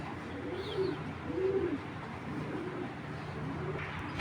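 Large Giribaz tournament pigeons cooing softly nearby, a few low rolling coos in a quiet setting with faint background hum.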